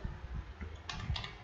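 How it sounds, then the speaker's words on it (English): Quick keystrokes on a computer keyboard entering a command in MATLAB, a short burst of close, faint clicks with no talking. "open Simulink by typing the command Simulink."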